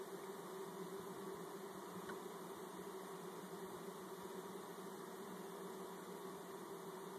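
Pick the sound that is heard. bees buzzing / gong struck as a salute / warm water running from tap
bees buzzing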